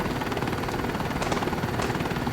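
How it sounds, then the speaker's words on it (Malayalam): A helicopter starts up in the video game Los Angeles Crimes, giving a loud, steady rotor and engine drone that holds evenly throughout with no talk over it. "ഹെലികോപ്റ്റർ സ്റ്റാർട്ട് ചെയ്യുമ്പോഴൊക്കെയുള്ള ആ സൗണ്ട് ഒന്ന് കേൾക്കണം ഗൈസ്"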